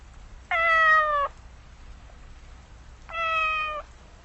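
Two drawn-out cat meows, clear and fairly close, separated by a pause of about two seconds, over a soft background hiss.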